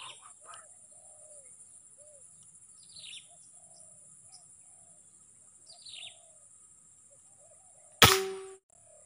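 A spotted dove cooing in the open, soft distant coos repeating over a quiet background with occasional thin bird chirps, then a single sharp loud gunshot-like crack near the end.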